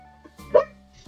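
Pet dogs barking indoors, a few sharp close barks with one loud bark standing out in a short burst, with low background hum.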